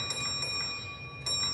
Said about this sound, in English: he does that by receiving the 3-1 bell code